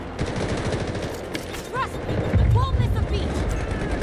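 SG552 rifle fire in the video game Delta Force, dense rapid automatic bursts close and loud, with other shots and impacts behind and someone talking over the shooting.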